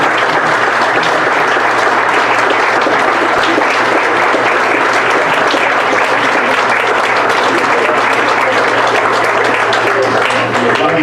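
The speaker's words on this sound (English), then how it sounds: "Can we please have one more round of applause for the 2000?" Sustained, loud audience applause fills a Hall of Fame induction ceremony, dense clapping running steadily throughout with no gaps.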